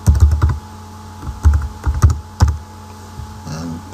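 Password typed on a computer keyboard, heard as close, crisp key clicks in short irregular bursts with gaps between them, ending in a final keystroke.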